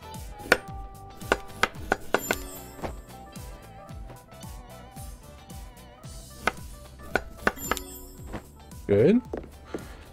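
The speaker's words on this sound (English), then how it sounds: "I gotta dice them for the veal" Quick rhythmic knife chops dice vegetables for veal in the restaurant game Chef Life, crisp close taps in rapid bursts with a few clinks and a brief whirring blender-like noise near the end.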